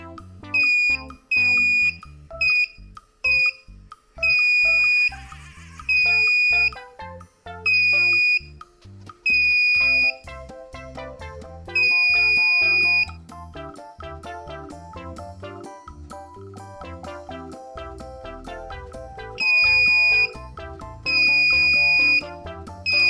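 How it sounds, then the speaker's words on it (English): Loud electronic beeping and buzzing tones repeat in short bursts with gaps, some long sustained buzzes, over a busy electronic backdrop. "we'll take the label off the buzzer and try again"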